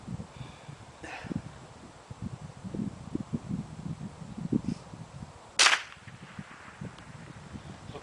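Ruger 10/22 rifle firing .22 LR rounds at a 12-inch bullet trap 300 yards away in strong wind, with one sharp, loud crack that stands out above gusty wind and rustle, plus a fainter snap earlier.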